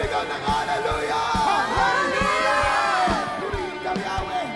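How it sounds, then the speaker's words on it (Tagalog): Congregation at a Filipino worship service shouting and cheering hallelujah together, a loud, sustained mass of raised voices with scattered yells and whoops throughout. "Sumigaw ng hallelujah!"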